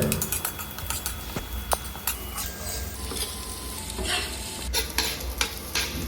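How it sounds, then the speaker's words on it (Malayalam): Chopped onions sautéing in a pan for egg bhurji curry, a soft steady sizzle with occasional stirring scrapes and clinks, close but quiet, no voices. "നമ്മൾ എടുത്തു വെച്ച മുറിച്ച് വെച്ച ഉള്ളി നമുക്ക് ഇതിൽ ചേർക്കാം. എന്നിട്ട് നല്ലോണം ഒന്ന് വഴറ്റുക."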